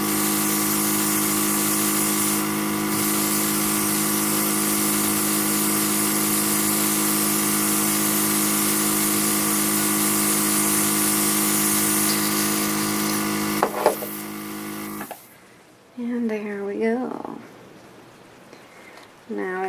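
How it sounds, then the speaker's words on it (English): Spray gun misting alcohol onto a bath bomb, a loud steady hissing spray with a pump hum that runs for about fifteen seconds, then stops, followed by brief voices talking. "we're just gonna spray it."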